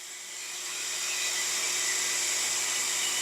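Electric water pump motor running under pressure during a test, a steady close whine and broadband hum that swells up over the first second and then holds evenly, no talk.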